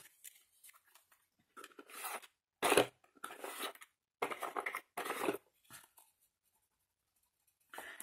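A rubber eraser rubs away pencil marks on paper in short, close bursts of dry scratchy friction, separated by brief silences, with no voices.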